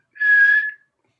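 A person whistles one steady, high, flute-like note for about half a second, imitating the sound of a carved whistle arrow in flight, loud and close in otherwise silent surroundings.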